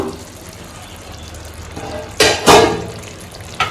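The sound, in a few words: stirring mutton biryani in a pot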